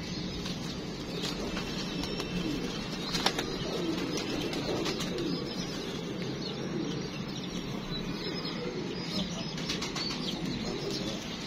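Pigeons taking off and flying, a busy flutter of flapping wings over a steady outdoor background, continuing for several seconds at close range.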